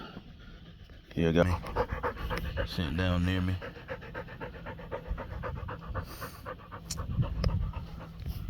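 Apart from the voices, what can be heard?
Rottweiler dog panting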